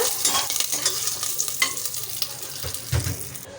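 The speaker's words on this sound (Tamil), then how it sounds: "எல்லாத்தையும் சேர்த்துட்டு அப்படியே ஒரு தடவை நல்லா கலந்து விட்டுக்கோங்க" Red chilli, fenugreek and curry leaves stirred in a pan on a Tamil home stove, a continuous sizzling hiss with scraping spoon strokes and a few louder clatters near the end, close and steady with no talking.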